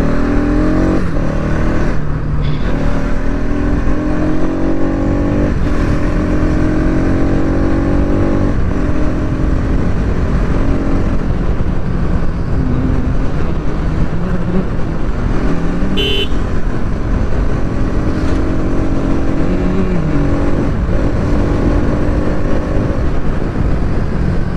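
A Bajaj Pulsar NS200 BS7 motorcycle being ridden on the road, its engine humming steadily close by with occasional revs and gear changes, amid loud wind rush and traffic, with car horns tooting now and then.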